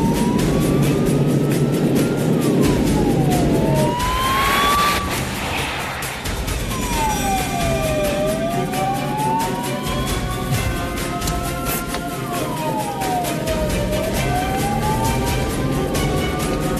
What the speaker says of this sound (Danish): Det vil sige, at vi skal køre med udrykning.